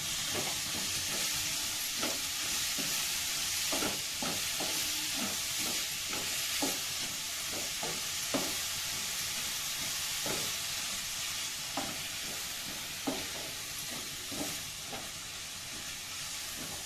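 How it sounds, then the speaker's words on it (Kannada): Spinach (palak) fries with egg noodles in a hot pan, giving a steady sizzling hiss broken by repeated scraping clicks of stirring, heard close with no talk. "ಪಾಲಕ್ ಸ್ವಲ್ಪ ಫ್ರೈ ಆಗಲಿ."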